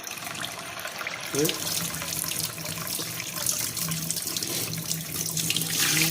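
Muddy water gushes from a freshly opened household tap, a steady rushing splash that runs throughout without a break.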